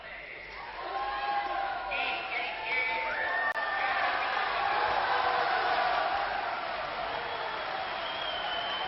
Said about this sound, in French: Il demande que les spectateurs l'applaudissent et au contraire, il se fait siffler.